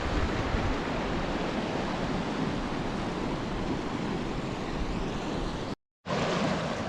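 Constant broadband rush of a mountain stream beside a trekking trail on the Hiran Bagh trek near Gilgit, loud and unbroken apart from a brief dropout near the end.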